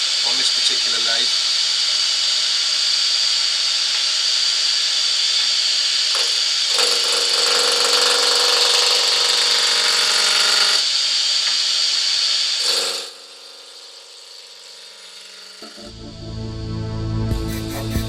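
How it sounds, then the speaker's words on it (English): A wood piece spinning at around 1,000 RPM on a woodturning lathe, with a loud steady hissing whir and tool scraping, then the noise drops sharply and a lower rumble follows. "Now I want the piece running fairly quickly in the lathe."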